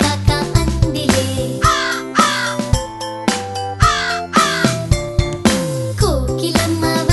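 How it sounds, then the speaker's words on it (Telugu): Loud, repeated crow cawing in a rapid rhythmic series, set in an animated nursery rhyme with a jingling musical backing. "కాకి ఒకటి వచ్చలే, కాకా కాకా అందిలే."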